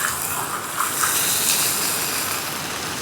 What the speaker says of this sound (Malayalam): വെള്ളം ഒഴിച്ചു. ഇതിപ്പോൾ ഞാൻ 1 കപ്പ് വെള്ളം ഒഴിച്ചിട്ടുണ്ട്.